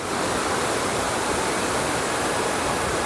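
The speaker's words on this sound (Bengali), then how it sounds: "140 ফিট উঁচু থেকে 10টি ধারায় কাঞ্চি নদী নামছে" Kanchi river plunging 140 ft in ten streams at a waterfall, heard as a dense, constant roar of rushing water, loud and unbroken throughout.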